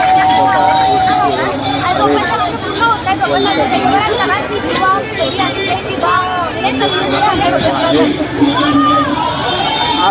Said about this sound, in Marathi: आंदोलनामध्ये भरपूर प्रमाणात गर्दी दिसत आहे